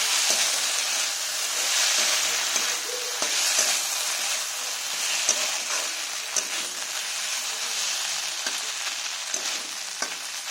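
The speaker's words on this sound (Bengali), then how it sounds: "মশলাটা ভালো করে কষিয়ে নেব।" A paste of onion, ginger, garlic and cumin stir-fries in a pan, giving a continuous loud sizzle with small scraping clicks from the stirring utensil scattered through it.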